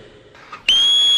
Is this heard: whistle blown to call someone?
yes